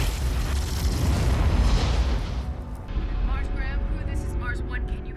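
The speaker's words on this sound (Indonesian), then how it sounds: "ia memutuskan meledakkan diri bersama serangga-serangga tersebut" A loud explosion booms in a film as a character blows himself up along with a swarm of insects, a heavy rumbling blast that fades while a narrator speaks over it.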